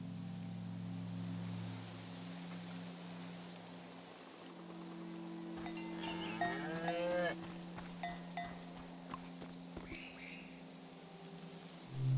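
Cows moo several times in a farm video game, drawn-out lowing calls rising over a steady ambient bed with light clanking, followed by scattered short thuds.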